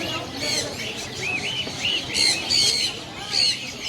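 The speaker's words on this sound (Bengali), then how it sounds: "চমৎকার চমৎকার পাখি।" Small birds chirp and tweet in bursts of high, bright calls at a busy Mirpur pet bird market, with crowd murmur and background chatter underneath.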